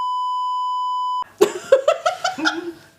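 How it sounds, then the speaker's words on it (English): A censor bleep from a cuss button sounds as one loud, steady tone lasting about a second, then cuts off and is followed by bursts of laughter during a livestream. "Which is the cuss button?"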